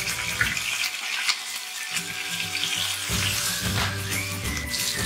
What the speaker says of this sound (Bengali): পার্শে মাছটা খুবই হালকা করে ভেজে নেব